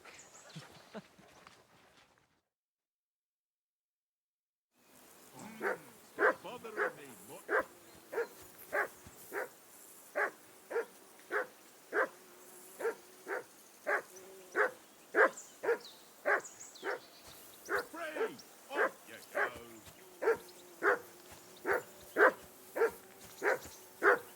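A dog in the medieval game Kingdom Come: Deliverance II barks steadily and loudly after a short silent gap, about two dozen evenly spaced barks with no pauses.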